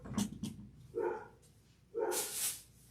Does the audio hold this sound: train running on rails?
no